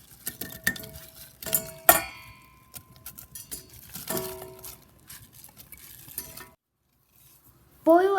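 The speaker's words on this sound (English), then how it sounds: "Add 400 grams of sliced apples into the pot." Sliced apples tumble into a cooking pot with a burst of clattering knocks and light clinks, close and uneven, then a short near-silence before a faint tonal sound at the end.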